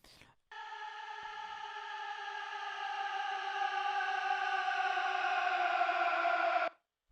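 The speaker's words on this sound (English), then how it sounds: "taking this vocal texture thing, probably put a lot of reverb on it, and then I actually took the pitch and automated it down as time went on" A vocal texture drenched in reverb rings as one sustained, layered tone with a soft attack, holding steady for about six seconds before cutting off cleanly, its pitch automated to sink gradually.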